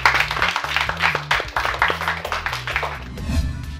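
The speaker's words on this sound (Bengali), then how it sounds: "আমরা মেধার জন্য আরেকবার হাততালি দেবো।" An audience claps for a child at a Bangla kids' magic show, a run of quick, close claps over background music.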